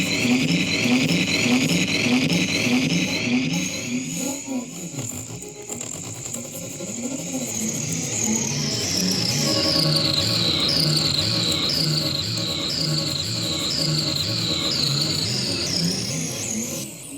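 Switchstrument, a homemade switch-controlled electronic instrument, run through delay with heavy feedback, giving dense repeating pulses and rising and falling chirping, cricket-like warbles that pile up into a loud, continuous swirl with no voices.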